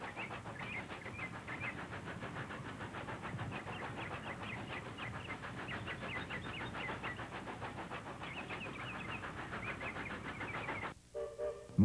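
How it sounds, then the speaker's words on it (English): ET&WNC (Tweetsie) steam train climbing State Line Hill, heard from a distance as a faint, steady rhythmic chuffing and rumble that continues unbroken before cutting off abruptly near the end. "This distant view shows the train climbing State Line Hill."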